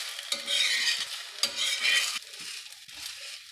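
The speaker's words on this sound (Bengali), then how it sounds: "আমি সানফ্লাওয়ার অয়েলে ভাজে নিচ্ছি।" Methi paratha fries in sunflower oil, giving two loud bursts of hissing sizzle with quieter crackle between and after; no talking.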